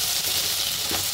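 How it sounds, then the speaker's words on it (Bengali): Spice powder frying in hot oil for a chicken liver curry, a steady close sizzle that holds without a break for the whole moment. "আমরা পাউডার কষাইতে আসি আর 5 মিনিট কষাবো"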